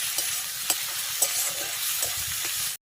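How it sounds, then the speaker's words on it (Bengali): Onion and spices sautéing on low heat for a bhetki fish-bone curry, a close, continuous sizzle with light rhythmic stirring scrapes throughout, no voices, ending abruptly. "সুন্দর করে কষিয়ে নিতে হবে অল্প আঁচে কষাতে হবে"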